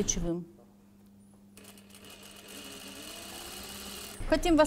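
A sewing machine stitches the center back seam of a cashmere jacket, a steady mechanical whir lasting a few seconds, with a voice speaking briefly before and after it.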